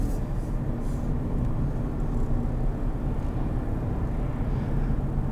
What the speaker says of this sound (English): Look at the plane coming in, guys.